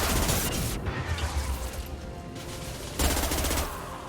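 Submachine gun fire loaded with armor-piercing rounds in Mass Effect 2, sustained rapid automatic bursts, loud and close, with a short pause before another burst.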